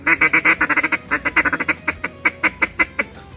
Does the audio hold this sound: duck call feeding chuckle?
yes